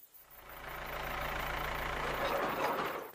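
A farm tractor engine idles close by, a steady low rumble that swells slightly and holds for a few seconds with no talk.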